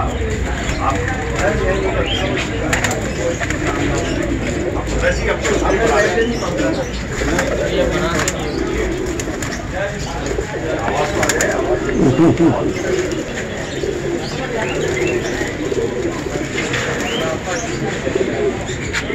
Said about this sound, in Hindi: यहाँ पे भी कबूतर है,